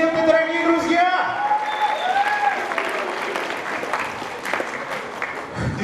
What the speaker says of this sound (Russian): И ваши бурные аплодисменты, дорогие друзья!